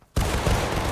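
A company volley of gunfire erupts at once after a short quiet, a dense, loud roar that holds and rolls on through the rest of the moment, from a line of soldiers training with bayonets.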